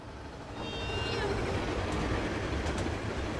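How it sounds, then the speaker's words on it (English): A CSX train in Train Sim 2015 rolls past on the Northeast Corridor with a steady rumbling roar and a faint tonal whistle near the start. "Look, another train, another train, another train, another train."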